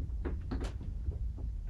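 Creaking and heavy slamming aboard a ferry, the Smyril Line Norröna, as the hull pounds through waves on a voyage to Iceland; dull low thuds and irregular creaks repeat steadily close by, with no talk.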